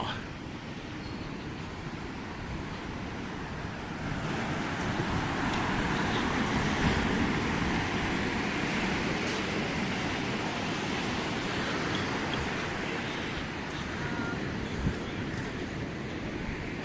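Steady broadband ocean surf rolls and washes along a beach at low tide near tide pools, a continuous roar that swells slightly louder partway through, with no talking over it.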